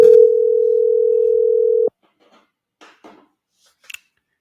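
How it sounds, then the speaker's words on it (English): A steady telephone dial tone hums loudly for about two seconds while a call is being placed, then cuts off abruptly, followed by a few faint clicks and soft handling noises. "Let me make a phone call there."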